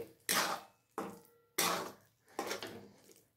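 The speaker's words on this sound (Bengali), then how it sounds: "দিয়ে আমি এটা এখন নাড়তে থাকবো এইভাবে।" Gooseberry jelly stirred in a pot, four separate scraping strokes of a utensil against the pan, each loud at the start and fading, with quiet gaps between them.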